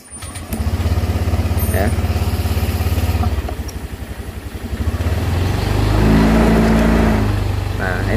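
Honda Vario 125/150 scooter engine cranks and catches, then idles with a steady low hum and rises into a sustained rev, heard up close while someone talks over it.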